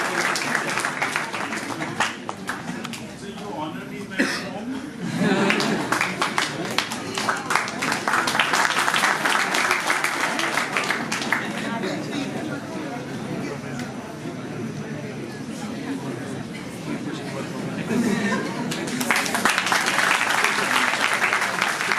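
Applause from an audience at an academic event, a steady crowd clapping that swells and fades over about twenty seconds, with some talk mixed in.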